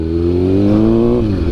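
A Kawasaki ZX-6R fitted with an SC Project CRT exhaust revs loud and close, a throaty steady engine note that climbs slightly and then drops off near the end.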